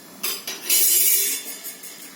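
Black mustard seeds and spices stirred in a metal pot give a few bright scraping clinks and rattles, close and fairly loud, with brief pauses between strokes and no talking.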